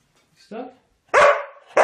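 A dog caught in window blinds lets out a short whine-like bark, then a loud, close bark after a pause, followed by the start of another, with no talking over it.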